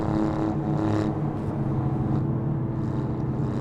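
A 2024 Alfa Romeo Giulia Quadrifoglio engine in race mode, a strong continuous engine roar heard from inside the car as it accelerates, with no talking.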